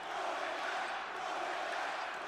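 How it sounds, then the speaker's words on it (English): A college basketball crowd at Purdue against West Virginia chanting in the arena, a dense, steady roar of many voices with no break. "the crowd is chanting"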